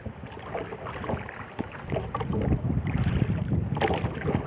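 Steady, rough strong wind buffeting the microphone with low rumbling gusts, over faint lapping water and small knocks while out paddling on the water, continuous and fairly loud throughout.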